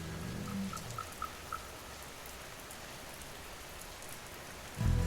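Heavy rain falls on a stormy night as a steady, dense hiss of drops on surfaces, with a few brief chimes early on and a low rumble at the very end.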